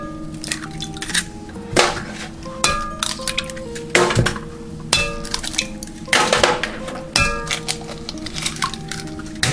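Eggs cracked against a bowl while making tropical baked French toast, giving a string of sharp clinks and taps at an uneven pace, close and fairly clear, with no talking over them.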